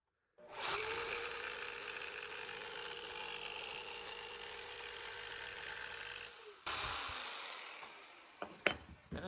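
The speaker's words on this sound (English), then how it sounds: "I have a jigsaw with a metal cutting blade on it." A jigsaw fitted with a metal-cutting blade saws through brass plate clamped to a table. It makes a loud, steady buzzing rasp for about six seconds, cuts out briefly, then restarts with a few sharp clatters near the end.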